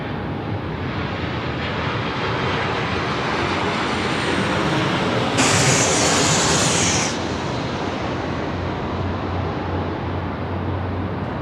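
A KC-135 aircraft takes off from Sydney Airport, its engines giving a broad, continuous roar heard from a distance. The roar swells sharply mid-clip and then eases back into a steady rumble, with no talking.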